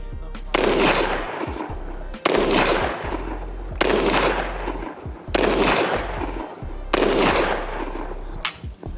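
Five loud pistol shots from a Glock 19 Gen 6 fitted with a Radian Ramjet compensator, each a sharp crack with a long echoing tail, fired about one and a half seconds apart.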